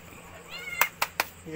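A cat meows close by: a rising cry followed by three short, sharp meows in quick succession, with no one speaking.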